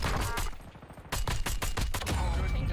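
Rapid bursts of GPR assault rifle fire in a Warzone match, loud and close, with a short pause before a fresh string of shots.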